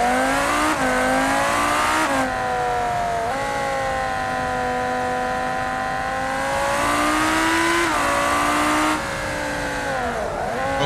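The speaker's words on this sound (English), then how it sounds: "That handbrake really works." A Lamborghini Huracan in the BeamNG Drive game howls through a handbrake turn, its engine note rising and falling across repeated gear changes while tires squeal loudly, close and continuous.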